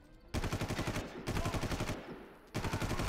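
Machine gun fire in the video game Far Cry, loud sustained bursts of rapid rhythmic shots with a short gap between volleys, heard alone.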